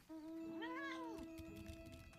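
A fat cat in Final Fantasy 14 lets out one clear, rising and falling meow, close and distinct over a faint steady game-music drone.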